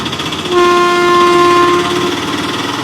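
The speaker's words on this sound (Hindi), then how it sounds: "सामने से तो एक ट्रेन आ रही है" An approaching train engine sounds a long, loud steady horn over rumbling rail noise, heard close and alone as a story sound effect.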